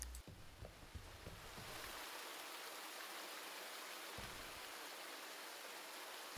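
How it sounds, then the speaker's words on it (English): Gentle waterfall ambience in the lush hideout of the Path of Exile video game, a soft continuous splashing wash, faint and steady, with a few low thumps and clicks early on. "So I picked the lush hideout because of the waterfall."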